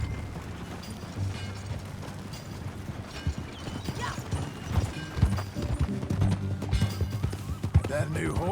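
Horse hooves clip-clop at a steady riding pace in Red Dead Redemption 2, close and clear, with creaking tack and a low musical bed underneath.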